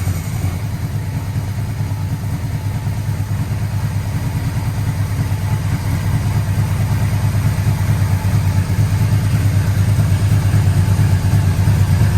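An old, freshly restored and repainted engine idles steadily and loudly, a continuous low mechanical drone with an even pulse and no voices.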